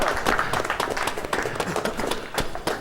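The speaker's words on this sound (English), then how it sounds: "Let's give a round of applause" Studio audience of a monster-themed TV show claps briskly for an arriving guest, a thick, lively patter of hands with a few sharper individual claps standing out.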